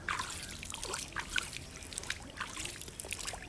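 Water trickles and splashes in a thin, uneven stream during a morning sun offering outdoors near a park, with soft irregular drips and spatters heard close up and no talking.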